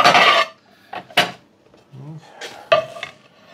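A plate is fetched and handled in a home kitchen while serving pizza, with several sharp ceramic clinks and scraping rubs in separate bursts and quiet gaps between them.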